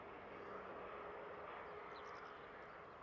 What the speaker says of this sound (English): KLM inbound from Schiphol